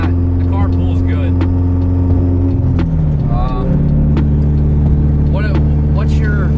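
A car with big twin turbos, called a twin ST, drones with a loud, steady low engine hum while driving. Voices talk over the continuous cabin drone.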